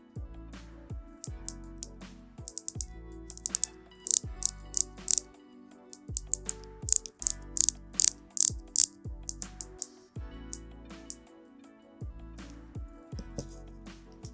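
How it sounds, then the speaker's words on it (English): The 60-click unidirectional bezel of a 40mm vintage-style diver watch is turned in short bursts of rapid, crisp, close ratcheting clicks, with pauses between turns and a low background hum. "The 60-click unidirectional bezel is standard and has a pleasant ratcheting sound to it."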